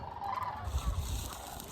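Geese call out in a short, loud burst of honking close by outdoors, alone with no voices.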